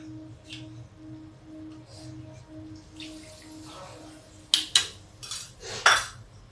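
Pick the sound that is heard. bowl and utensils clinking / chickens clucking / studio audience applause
bowl and utensils clinking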